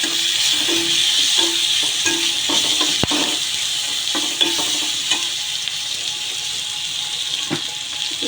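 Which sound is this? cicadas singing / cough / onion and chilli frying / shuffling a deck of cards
onion and chilli frying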